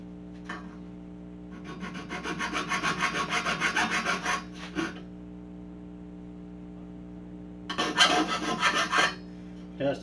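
Hand filing of a metal heat sink to trim off a small lip for a DIY 250-watt dummy load: two bursts of steady rasping strokes, a longer run followed by a shorter one after a pause.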